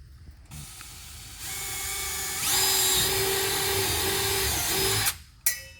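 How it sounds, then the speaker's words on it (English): A power drill with a 1/4 inch bit whirs up and bores steadily through a plastic fender liner on a Ram 3500 dually for several seconds, pitch rising as it cuts, then stops with a short burst. "take a 1/4 inch drill bit and drill right through that X"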